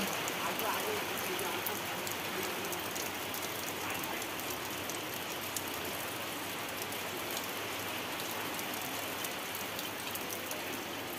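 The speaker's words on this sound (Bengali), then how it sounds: "বৃষ্টি পড়ে।" Light rain falls steadily on a rural home on an overcast afternoon, giving an even, hissing patter that stays at a constant, fairly quiet level throughout, with no talk.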